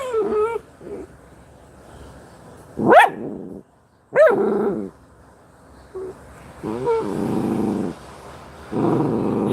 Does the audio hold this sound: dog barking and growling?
yes